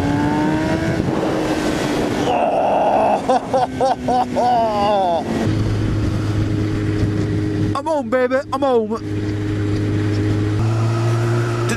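Yamaha YZF600R Thundercat motorcycle engine revving loudly up and down through the gears, steady high drone with rising and falling pitch sweeps, heard from the rider's position while someone shouts excitedly over it.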